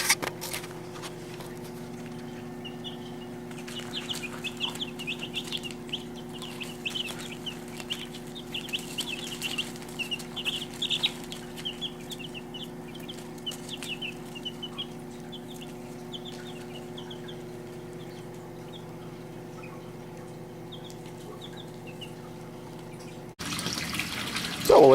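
Backyard chickens clucking near a greenhouse, soft scattered clucks repeating through a long stretch over a steady low hum, then a brief louder bump near the end.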